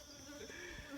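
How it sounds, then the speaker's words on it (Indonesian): Small bees hover at a rest stop on a mountain trail up Seulawah Agam, making a faint, thin, continuous buzzing drone over one quiet second. "Di pos Pintu Angin ini banyak lebah. Ini lebah kecil-kecil nih."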